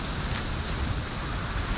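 Ocean waves and wind at sea in the Valheim video game form a steady, broad rushing roar with no distinct breaks, moderately loud and alone.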